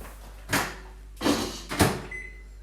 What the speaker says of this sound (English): I'm going to put this into the microwave for 1 minute first before I stir